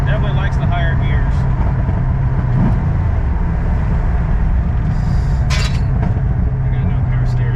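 An LS-swapped Nissan 350Z driving in a high gear, a loud steady engine and road drone heard from inside the car, with a few faint clinks and a brief rattle.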